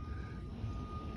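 Reversing beeps from road works just around the corner: a faint, steady electronic tone persists over a low outdoor rumble, heard from a short distance away.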